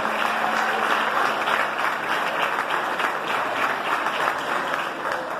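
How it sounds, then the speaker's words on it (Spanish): Audience applause at a live folk music show in Salta, Argentina, steady dense clapping from a crowd, sustained and even throughout. "Ahora un fuerte, fuerte aplauso"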